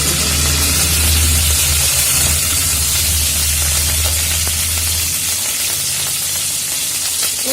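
Mustard seeds and curry leaves crackle and sizzle in hot oil for a rasam tempering, a loud, dense, steady frying hiss that runs throughout with a low hum beneath for the first few seconds.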